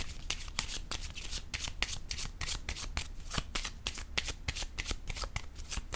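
Tarot cards being riffled and shuffled in a brisk, continuous rhythm of quick papery flicks, close and steady throughout with no pauses.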